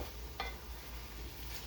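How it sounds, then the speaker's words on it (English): Spinach wilting and cooking down in a hot pan gives a steady, soft sizzle with a quick stirring scrape, close by and on its own, no voices. "Look at that spinach cooked down."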